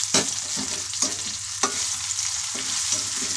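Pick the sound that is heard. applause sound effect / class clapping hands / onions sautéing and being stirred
onions sautéing and being stirred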